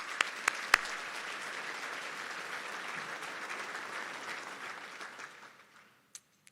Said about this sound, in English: please join me in a round of applause for all our sponsors